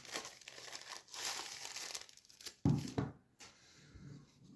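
Someone opens the box of a DJI Mini 3 Pro Fly More Kit Plus drone, crinkling and rustling the packaging in close, uneven bursts with a louder crackle partway through.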